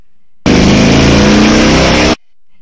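A Yamaha 1700 Warrior motorcycle engine revs hard on a dyno in one loud, sustained burst lasting under two seconds. It starts abruptly and cuts off sharply, with quiet before and after.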